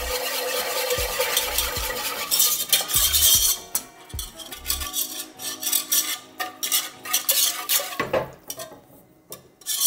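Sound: whisking milk into roux, scraping the pan

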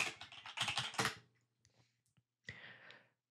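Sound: typing on a computer keyboard

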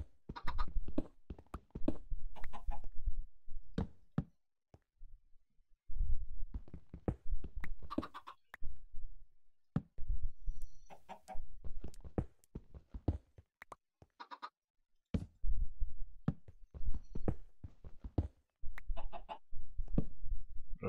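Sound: chickens clucking in video game Minecraft

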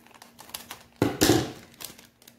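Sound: cutting open a pack of cloves

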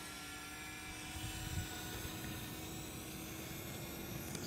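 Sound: DJI Mavic Mini drone flying in helix mode

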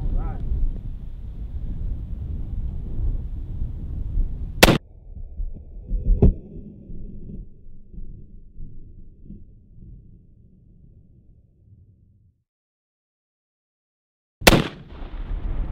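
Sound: 50 cal rifle shooting an explosive Thanksgiving target

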